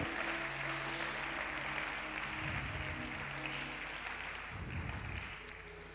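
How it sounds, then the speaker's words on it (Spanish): A church congregation applauds God during an afternoon service. The clapping is a continuous, fairly distant wash over a low hum and tapers off near the end. "Dale un aplauso a Dios en esta tarde."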